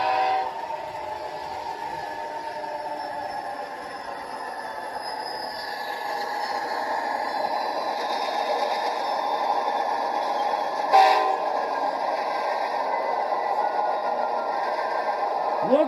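An Athearn Genesis Amtrak P40DC #839 model locomotive with DCC sound gives a long, steady horn blast over a low engine rumble, close and fairly loud, with a brief clank near the middle and no talking.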